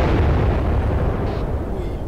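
A deep, loud bomb blast in the military shooter Arma 3, a sustained low rumbling roar filling the whole moment with no speech.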